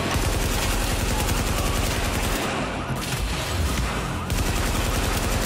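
Sustained, dense gunfire from The Division video game, with loud rapid bursts rattling continuously and a brief lull midway before the shooting resumes.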